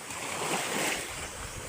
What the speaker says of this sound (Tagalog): Talagang kalbog ang karagatan.